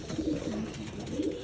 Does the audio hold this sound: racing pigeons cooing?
yes